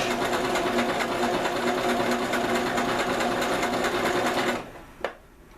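Steady, fast whirring of a sewing machine stitching fabric for a DIY foraging bag, loud and close, running several seconds before stopping, followed by a single short click.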